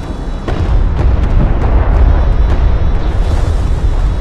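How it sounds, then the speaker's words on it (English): Strike craft destroyed in a desert battle in the video game Homeworld: Deserts of Kharak, heard as a dense wash of booming blasts and sharp pops against constant loud battle rumble, with no voices. "A strike craft has been destroyed."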